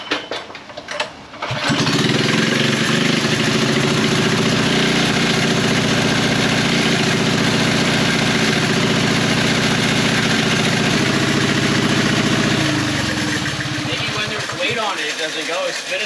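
Honda dirt bike engine firing up and then idling steadily while warming up, loud and close with a constant throbbing chug that eases off toward the end.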